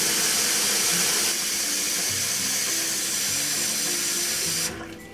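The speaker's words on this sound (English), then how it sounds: "I'm just going to add enough water to" Tap water rushing into a pot of chicken and pork bones for Cantonese soup stock, a loud steady splashing gush that shifts in tone as the pot fills, then cuts off near the end.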